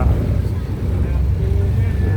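Ferry boat on the Chao Phraya River, its engine giving a loud, steady low rumble up close, mixed with wind and water noise and running continuously without a break.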